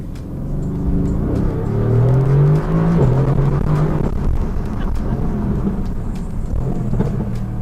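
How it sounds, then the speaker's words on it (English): A Mercedes-AMG GT R Special Edition engine revs up and down in rising pulls, with sharp popping backfire crackles from the stock exhaust scattered throughout. "I like the backfires. It sounds so good even if it has a stock exhaust system."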